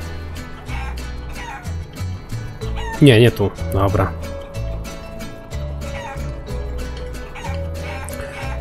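A chicken in the Guacamelee video game clucks and squawks loudly in a burst of agitated calls, set against steady game music with quick rhythmic effects, while someone briefly talks nearby.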